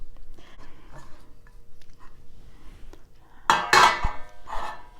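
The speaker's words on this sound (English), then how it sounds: "I'm going to grab the pork shoulder and put it in this pan." A pork shoulder for Puerto Rican pernil is set into a metal roasting pan, giving a sudden loud clatter and clunk of metal late on after quieter handling noises.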